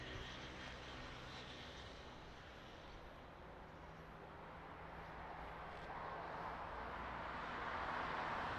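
Aircraft engine roar during a takeoff from runway 02 at Lisbon Airport, a steady broadband rumble that swells louder toward the end as the plane builds power on the roll, heard from a distance with no talk.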